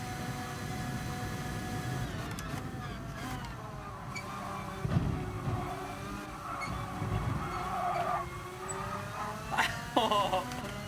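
Karts launching and racing in the GT Sport video game, Super GT karts, a steady engine drone with pitch swells and a few sharp bumps, continuous throughout at moderate loudness, with faint voices underneath.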